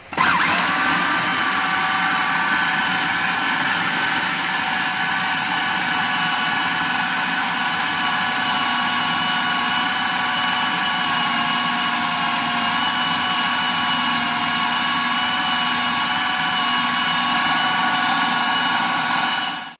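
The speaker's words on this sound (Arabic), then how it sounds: "ضربت الفول مع الخضره مع البصل مع الثوم، ضربتهم" Food processor grinding fava beans together with greens, onion and garlic for falafel dough, a loud, steady whirring roar that holds unbroken for the whole stretch with no talking.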